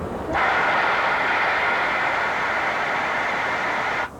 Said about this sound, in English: To release the brakes, air has to go back in the train line, so I'll put the automatic brake valve